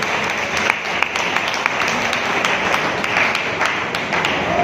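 A seated crowd at an RCM pin celebration event applauds steadily throughout, dense continuous clapping filling a hall at moderate loudness with a few sharper individual claps standing out.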